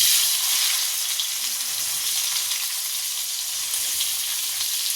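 Carrots sizzling in a frying pan with ghee, a loud, dense close-up hiss and crackle that holds steady throughout with no voices.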